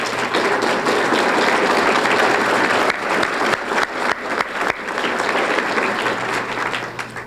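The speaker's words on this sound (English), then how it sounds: "before we give the big applause to Helen" Banquet audience at an awards dinner breaks into loud, sustained applause, dense clapping from a large room filling the whole stretch without a break.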